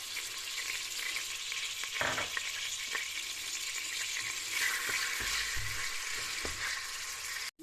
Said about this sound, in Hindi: ऑयल को अच्छी तरह से गरम करें। इसमें अब आप डाल दें लहसुन अदरक कुटा हुआ।